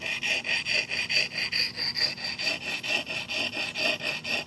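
An axe blade sharpened with a sharpening stone, steady back-and-forth grinding strokes in an even rhythm of about three per second, close and clear with no talk.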